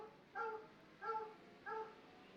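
A dog gives three short, evenly spaced barks or yips, faint and somewhat distant, over a low background hum.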